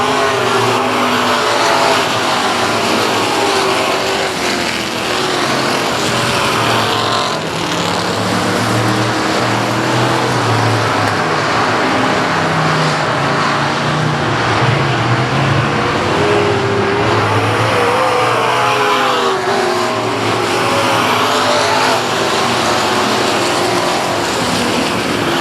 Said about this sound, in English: green flag is out, and we're going racing